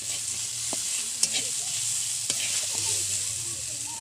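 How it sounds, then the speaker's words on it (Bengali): Spices with coriander and chili powder frying in oil while being stirred, a bright continuous sizzle with a few sharp scrapes of a spoon against the pan. "নেড়ে ভালো করে কষিয়ে নিচ্ছি"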